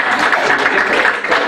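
A lecture audience applauds steadily, a dense wash of many hands clapping together at full volume, with no voices rising above it for the whole stretch.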